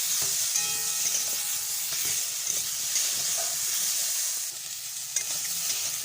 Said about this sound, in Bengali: এবার আমটা আমার ভাজা হয়ে গেছে